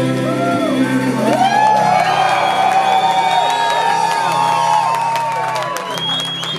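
A concert crowd at an acoustic show cheers, whoops and shouts loudly and steadily, close and dense throughout, with individual yells rising above the roar.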